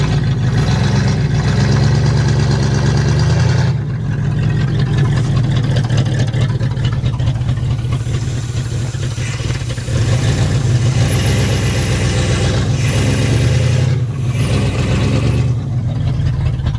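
A marketplace muscle car being revived runs roughly, its engine holding a loud, steady low rumble close by with slight shifts in tone and no talk over it.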